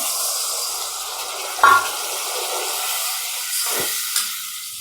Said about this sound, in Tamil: அந்த புளி தண்ணியும் நம்ம இதில் சேர்த்துக்கிறோம்.